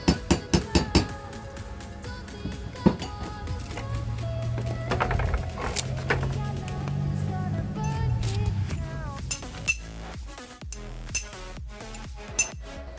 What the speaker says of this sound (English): working with the chisel is not particularly effective